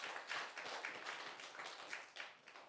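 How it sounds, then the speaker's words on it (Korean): Church congregation applauding during a Sunday morning worship service, a steady patter of many hands clapping together at close to moderate distance, with no one speaking over it. "박수 한번 치세요."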